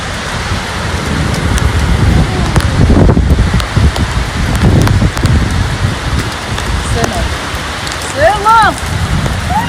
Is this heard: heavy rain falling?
yes